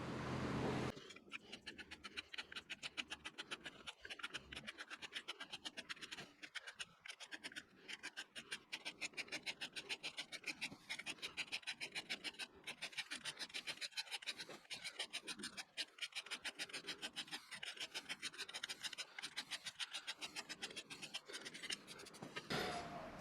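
Metal part being hand scraped by a machinist before a test fit, a long run of quick, rhythmic rasping strokes, close and fairly faint, with short pauses between bursts and no talking.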